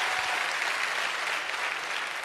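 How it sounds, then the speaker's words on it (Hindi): An audience applauds for a team at an AWPL motivational business event, producing a brief, even, continuous roar of clapping at moderate volume. "जोरदार तालियां दोस्त मेरी प्यारी सी टीम के लिए।"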